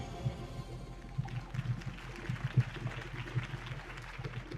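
Faint crowd applause, a dense patter of claps that starts up and continues steadily at a distance.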